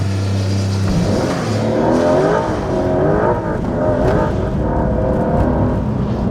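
Porsche 911 GTS T-Hybrid (992.2) accelerating hard away on private grounds, engine revving up loudly through rising gear pulls, close and continuous.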